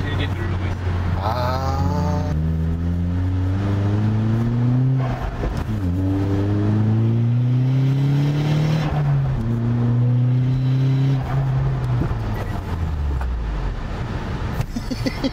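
A tuned, used Hyundai Genesis Coupe with stability control switched off revs hard and accelerates through several rising engine sweeps. Each loud, close climb in pitch breaks off at a shift, and a person speaks briefly over the engine.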